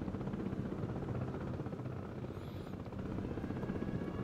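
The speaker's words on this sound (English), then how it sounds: "Get your chopper" A helicopter in the Broken Arrow video game thrums with a continuous rotor chop, loud and steady throughout with no talking.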